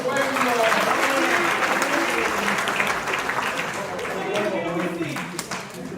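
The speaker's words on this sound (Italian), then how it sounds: "l'ultimo applauso, quello sentito, quello più caloroso al nostro meraviglioso pubblico" Warm applause from a theatre audience at the close of a Sicilian stage show, dense and loud at first, then thinning slightly while staying sustained throughout, mixed with a voice speaking over it.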